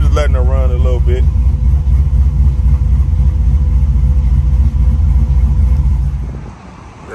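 A boxy Chevy car engine idles steadily with a deep, continuous low rumble, close and loud, while someone talks briefly over it at the start before the idle fades slightly near the end.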